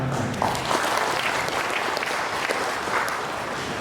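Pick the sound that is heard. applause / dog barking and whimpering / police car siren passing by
applause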